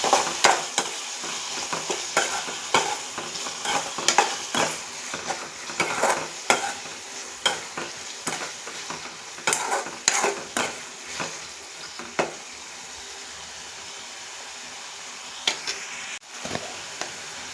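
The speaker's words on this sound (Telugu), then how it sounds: "దీన్ని ఒకసారి బాగా కలుపుకుందాం." Ginger-garlic paste stirred into cooked-down tomatoes in a pan, a run of rhythmic scraping stir strokes over a light sizzle, close and clear, easing toward the end with a few last taps, no talk.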